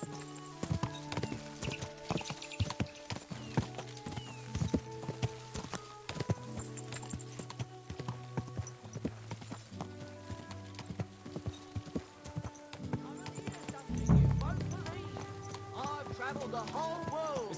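Horse hooves clip-clop steadily while riding in Kingdom Come Deliverance 2, a rhythmic trot under game music, with a louder thud and flurry of sound near the end.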